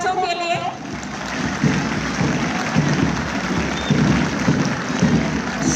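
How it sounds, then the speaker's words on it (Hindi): Loud crowd applause greets children marching past the stage at the inauguration of the state school games, sustained and broad, with a brief voice at the start and ambient crowd noise throughout. "जोरदार तालियां इन बच्चों के लिए।"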